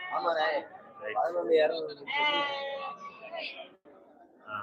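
Goats bleat repeatedly at a busy Friday livestock market in Ettayapuram, Thoothukudi, their wavering cries overlapping with nearby people talking.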